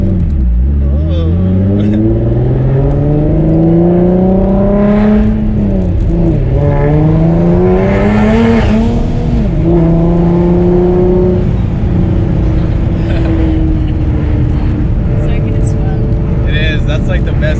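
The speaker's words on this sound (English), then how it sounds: "When the RPMs are really high though, you go to red line." Single-turbo Nissan 350Z engine revving up toward high RPM, a loud, rising harmonic drone that climbs, dips at a gear change and climbs again, with people talking over it inside the car.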